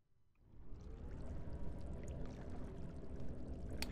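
Water in Amnesia: The Dark Descent starts after a brief silence and then runs as a soft, steady sloshing pour, faint and continuous, ending in a sharp louder noise.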